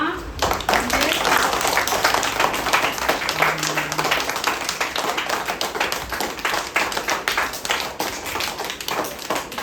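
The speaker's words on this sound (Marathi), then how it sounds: "टाळ्या वाजवा" An audience claps steadily and densely throughout at a school birthday event, a continuous wash of many hands applauding close by, with a brief voice heard faintly underneath.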